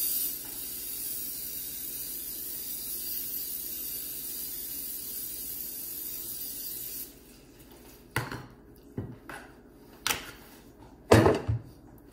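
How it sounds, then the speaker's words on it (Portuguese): Cooking spray hisses steadily onto a baking dish for bread pudding, a continuous aerosol spray that stops abruptly, followed by a few sharp knocks and clatters of the dish. "Eu vou dar agora um pouco de spray"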